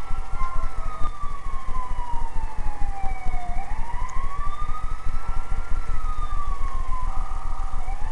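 An ambulance siren in the game GTA 4 wails steadily in slow rising and falling sweeps over a constant traffic rumble, loud and close throughout.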